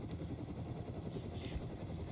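A drone or helicopter in a multiplayer video game hums steadily overhead at moderate distance, a continuous low engine drone filling the whole moment without speech.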